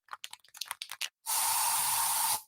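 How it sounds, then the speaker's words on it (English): Bug spray from an aerosol can hisses in a single steady burst of about one second inside a home, loud and close, after a run of short clicking taps. "So you just used bug spray in your home."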